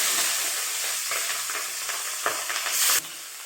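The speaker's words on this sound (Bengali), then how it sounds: "যে মাছের মাথাটা দিয়েছিলাম সেটা আগের মতো এরকমই ভেজে নিলাম।" A Katla fish head fries in hot oil with a steady, loud, close sizzle and crackle. It is broken by a few stirring scrapes, and a brief hiss flares near the end before it drops off.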